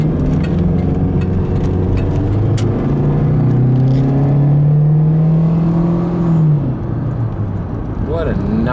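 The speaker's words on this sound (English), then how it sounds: "I'm in this beautiful car here that's just running down the road so nice" A car engine hums and rumbles steadily while driving down the road, its drone shifting pitch with speed, loud and close from inside the cabin as someone talks over it.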